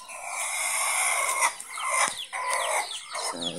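Bantam chickens and their chicks in a backyard in Masbate, with steady clucking and peeping layered over each other for the whole stretch, close by and fairly loud, and no talking.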